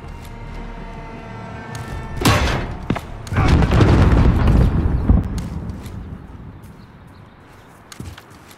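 A grenade bursts during a Call of Duty Modern Warfare team deathmatch, giving a heavy boom followed by rumbling debris and scattered thuds, with further muffled impacts fading afterward.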